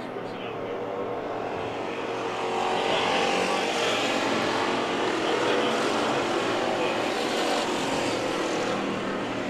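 Factory stock race cars roar around Perris Auto Speedway during a heat race, a broad engine howl that swells louder partway through and holds steady as the pack passes, with faint talk mixed in.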